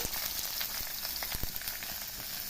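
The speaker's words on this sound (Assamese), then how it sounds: "পিয়াজখিনি পুৰা ভালদৰে ভাজি ল'ব লাগিব একদম ৰংচোৱা হোৱালৈকে" Chopped onions fry in a pan with dried and fresh green chilies for a chicken dish, giving a dense, continuous close sizzle with faint scattered crackles and no speech.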